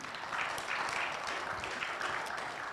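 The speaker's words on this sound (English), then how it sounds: "please give a big applause to them" Audience at an international seminar on food security gives a short round of applause, fairly faint and steady clapping throughout.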